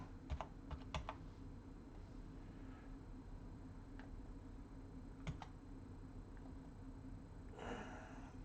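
Faint computer keyboard typing comes in scattered clusters of clicks, quiet and sparse against a low steady background hum.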